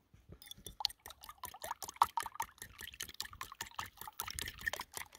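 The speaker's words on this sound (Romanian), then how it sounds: "Batem bine ouăle." Eggs seasoned with salt and pepper are beaten with a fork in a bowl for a bacon omelette, a close, quick, irregular clatter of light taps and wet sloshing that continues without pause.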